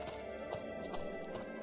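Horse hooves clip-clop steadily close by in a quick rhythm in the video game Two Worlds, with a faint whinny over a constant background bed.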